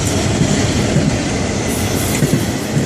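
Old Southern Pacific and Conrail freight cars rolling past in a Florida East Coast train, a loud, close, continuous rumble of wheels and rail with faint rhythmic clacking and no voices.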